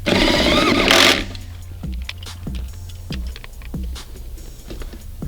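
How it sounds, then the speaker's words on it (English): A 13mm battery tie-down bolt on a Buick Enclave is tightened with a ratchet: a brief loud burst opens, then a steady run of close, rhythmic ratcheting clicks with no talk. "We'll go ahead and install the 13mm bolt and battery tie down back into place. Tighten that bolt back down."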